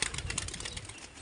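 A released pigeon beats its wings in a quick flurry of flapping as it takes off, close by and brief, with no voices.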